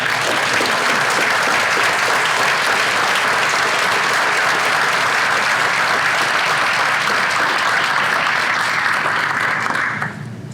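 A room full of people at an annual awards breakfast gives a round of applause for an award recipient, a loud, even wash of clapping that holds steady for about ten seconds before thinning out at the end.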